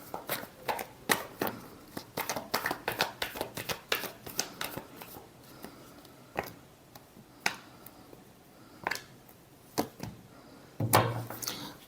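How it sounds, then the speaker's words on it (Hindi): Tarot cards shuffled by hand close up, a run of crisp riffling bursts and sharp flicking slaps in an uneven rhythm, with brief pauses between, quiet overall and alone without talk. "Last shuffle."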